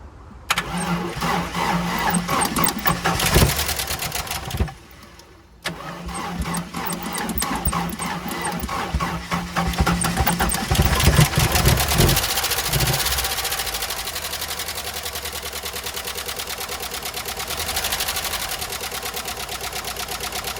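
A 1993 Jeep Wrangler YJ engine, unstarted for years, cranks, stumbles and catches, then runs roughly and loudly up close, with a brief pause early on and a steady uneven idle afterward.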